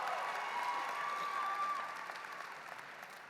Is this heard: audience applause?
yes